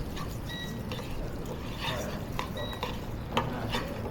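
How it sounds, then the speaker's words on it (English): Chopped onions sweat in oil in a pan at a chef's stove, a soft steady frying hiss with faint scraping and a few light clinks of a utensil against the pan. "a little bit of onions. And we'll start sweating them."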